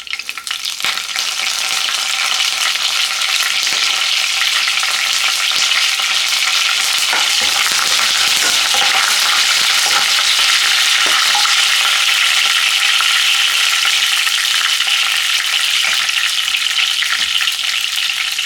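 Chana dal, urad dal, dried red chillies and curry leaves crackle steadily in hot oil for garlic rice, a dense continuous sizzle with no voices.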